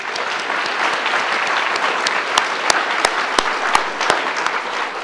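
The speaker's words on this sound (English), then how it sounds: "I'll give them a round of applause" Conference delegates at a students association celebration event give a sustained round of applause. Dense clapping fills five seconds, with a few louder individual claps standing out near the end.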